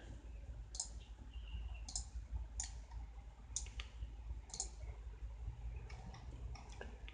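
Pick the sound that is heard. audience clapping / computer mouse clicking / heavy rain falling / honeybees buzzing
computer mouse clicking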